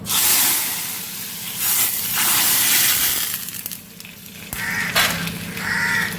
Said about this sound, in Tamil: தாளிக்கிற சத்தம் கேட்டோடனே வந்துட்டாங்க